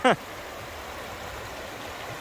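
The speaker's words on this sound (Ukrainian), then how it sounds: "Ще, ще одна річка." A river flowing steadily along a hiking route with obstacles, a continuous close rushing wash of water throughout, with a brief voice cutting in at the start.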